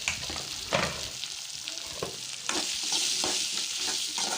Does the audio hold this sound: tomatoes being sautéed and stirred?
yes